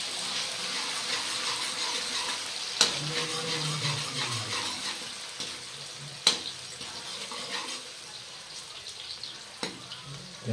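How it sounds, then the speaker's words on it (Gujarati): Oil tempering for Manchurian in a home kitchen, a steady sizzle and crackle of frying with scraping and clanking of a spoon stirring in the pan, broken by a few sharp metallic knocks. "હવે વઘાર લે છે મંચુરિયમ બનાવવા માટે"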